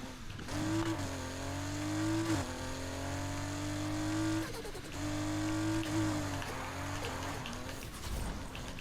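A Porsche engine in Need For Speed Heat drones loud and steady, its pitch rising through long pulls with brief dips at gear shifts, alone without talk.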